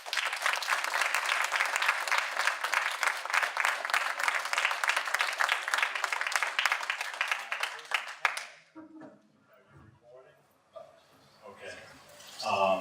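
An audience at Mitchell College applauds to welcome a speaker, a steady, full round of clapping for about eight seconds that cuts off sharply, followed by quiet room noise and a voice speaking.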